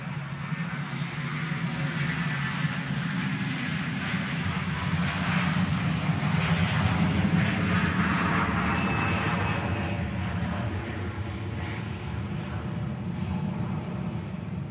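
A Hawaiian Airlines airliner in its older livery at Honolulu airport gives off a steady, loud engine roar with a broad rushing hiss and deep rumble, sustained evenly for the whole stretch with no voices.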